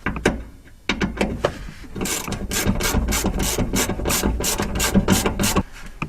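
A ratchet is worked by hand to tighten fuel pump bolts on a 2013 Subaru STi in a crisscross pattern, producing rapid, rhythmic clicking strokes close to the ear, with no one speaking.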